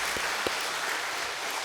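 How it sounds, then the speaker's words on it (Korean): Steady applause from a church congregation during a Sunday service, a dense continuous patter of clapping with a couple of sharper claps standing out, no voices. "한번 박수하겠습니다"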